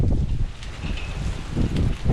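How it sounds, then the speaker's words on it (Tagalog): Low, gusty wind at a children's park in Sydney rumbles and buffets steadily, rising and falling in loudness throughout, with no voices. "Hangin ay."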